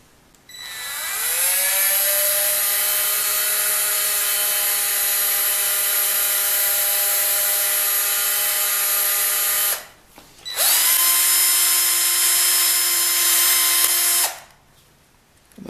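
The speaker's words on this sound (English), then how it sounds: "I'm going to ream this out" A power drill with a 3/32 bit reams out a hole in a small casting for a model organ conductor, running in two long, steady high-pitched whirring bursts separated by a brief pause, loud and close.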